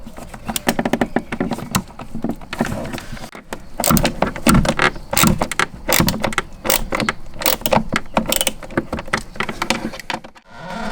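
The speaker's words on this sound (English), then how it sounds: "you close the case, you close the handle, you turn the key, you remove the key" Givi motorcycle top case being shut and locked: a run of close, loud plastic clacks, latch snaps and rattling metal key clicks as the lid and handle close and the key turns and comes out, with no talking.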